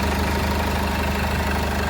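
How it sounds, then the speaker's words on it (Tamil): A 2009 Mahindra Xylo E4 engine idles with a steady, even low hum and faint mechanical ticking, constant and close, with no revving and no voices. "வாகனம் ஓடுதா இல்லையா அப்படின்னு கூட தெரியாத அளவுக்கு இன்ஜின் பார்த்தீங்க அப்படின்னா அப்படி ஒரு ஸ்மூத்தாக இருக்குதுங்க"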